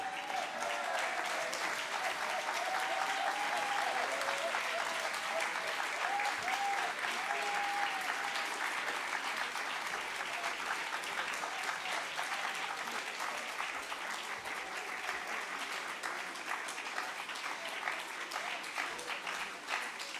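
An audience applauds steadily to welcome former British Commons Speaker John Bercow at a political gathering, a dense, sustained clapping from a sizeable crowd lasting about twenty seconds with no talk over it.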